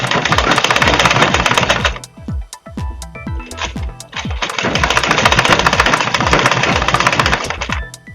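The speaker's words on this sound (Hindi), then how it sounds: "सिलाई के ऊपर ऊपर ही दूसरी सिलाई को हम चलाएंगे।" A sewing machine runs a second line of stitching over an earlier seam, two loud sustained bursts of rapid mechanical clatter separated by a short pause with a few clicks and knocks.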